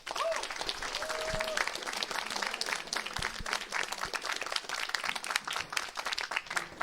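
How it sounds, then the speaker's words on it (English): Sustained applause from a crowd, dense clapping that holds steady throughout, moderately loud. "So a round of applause for the EGA."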